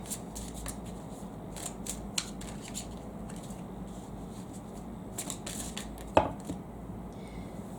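Tarot cards being shuffled by hand, quiet repeated riffling and flicking bursts in an irregular rhythm, close up, with one sharper slap near the end and no talking.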